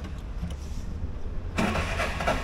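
An auto rickshaw engine in Gokarna rumbles low, then catches partway through and settles into a louder, steady running clatter close by.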